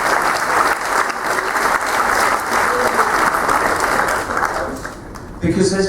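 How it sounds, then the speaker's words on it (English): Loud, dense applause from the audience at a hypnotist's stage show, steady and sustained before tapering off abruptly near the end as a voice begins. "Come on, huge round of applause, ladies and gentlemen"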